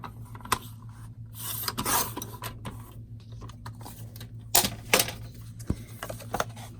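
A small paper journal tag being trimmed a smidge on each side, giving close, dry rasping scrapes and cuts in short bursts over a steady low hum, with no talking.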